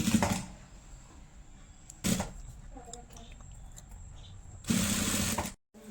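Sewing machine stitching thread piping at home: short bursts of rapid mechanical clatter, near and fairly loud, separated by quieter gaps with faint handling noise.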